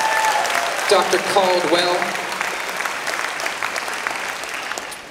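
Loud applause and some cheering from a crowd at a vegan camp-out talk, rising after a question about a doctor and then thinning gradually, with a speaker's voice briefly over the clapping.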